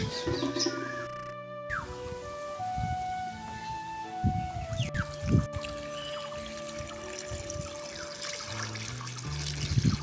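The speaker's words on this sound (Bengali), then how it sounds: "এবার দিব ভরপুর জল" Water pours into a pot holding a guava plant, a soft running trickle in short bursts over a quiet background with some faint tonal noise.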